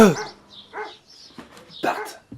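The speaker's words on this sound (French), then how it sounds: "arrête d'aboyer. Ah, qu'est-ce qu'il a ce chien?" A dog barks a few times in short, sharp bursts, close by, with gaps of quiet between the barks.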